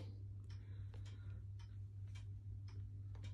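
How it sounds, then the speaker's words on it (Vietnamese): Steady ticking of an Odo Sonodo wall clock with a 24/10 movement and hour strike, a regular string of soft ticks close by over a low constant hum. "chiếc đồng hồ treo tường mang thương hiệu Odo Sonodo máy 2410 điểm giờ Bính Bon"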